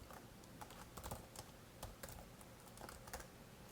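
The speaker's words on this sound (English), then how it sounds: "we are ready to start typing" Typing on a computer keyboard while coding, a close, quiet run of irregular key clicks with occasional louder taps, alone without talk.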